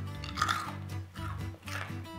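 Close-up crunching and chewing of crunchy caramel popcorn, a few rhythmic bites each with a brittle crackle, no talking.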